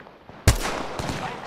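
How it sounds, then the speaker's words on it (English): A single sharp, loud gunshot in Apex Legends, followed by a second fainter shot about half a second later, each trailing off in a short echoing tail. "Opening fire on the enemy."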